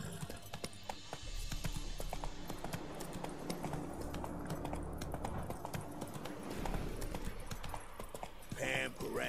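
Horse hooves clip-clop steadily in The Witcher 3 as the horse is ridden and urged to go faster, a continuous galloping patter with a brief whinny-like sound near the end.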